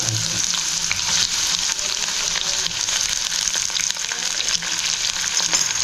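Onion frying in hot oil for a fish dinner, a steady, loud hiss and sizzle that holds evenly throughout, with faint stirring clicks and no voices.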